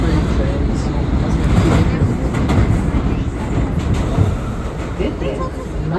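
An R179 subway train on the E line rumbles steadily along the track with clattering wheels and a broad, loud roar throughout, heard from on board.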